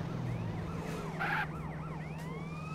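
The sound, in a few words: ambulance siren in video game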